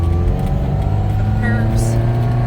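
A 1979 Ferrari 308 GT4 engine drones steadily while the car drives in low gear, a continuous mid-pitched hum with no pauses and some background talk mixed in.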